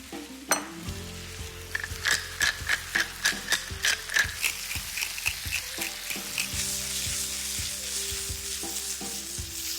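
Moose meat frying in a knob of butter in a pan, with a rhythmic run of clattering scrapes and knocks over a steady sizzle that then settles into continuous frying, close and with no speech.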